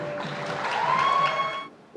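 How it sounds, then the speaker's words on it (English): A pageant audience at Miss North Hardin 2022 gives the judges a short round of applause, a dense burst of clapping under a brief tone that fades near the end. "let's give one last round of applause for our judges"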